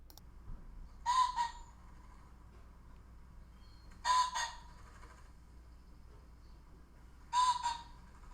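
A male pheasant gives three short, harsh, distant calls at evenly spaced intervals, each a brief double burst over a quiet background.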